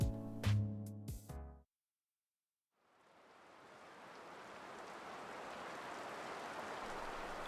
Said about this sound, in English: Wake to the sound of rain against my window